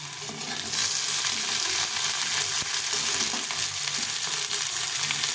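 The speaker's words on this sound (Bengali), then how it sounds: "একটু লাল লাল করে ভেজে নিতে এখন দিয়ে দেবো কয়েকটা চেরা কাঁচা লঙ্কা" Small fish frying in hot oil with slit green chillies, a steady loud sizzle and crackle with faint stirring throughout, no voices.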